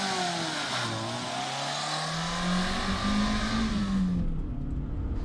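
A Daihatsu YRV 1.3, a small Japanese car, pulls away with a steadily rising engine note that climbs through the gears, loud and close, with no talk over it.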